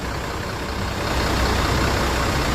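A new Sempati Star Scania bus sits idling during an engine check, its heavy diesel producing a steady, loud low drone that swells slightly partway through, with no talking.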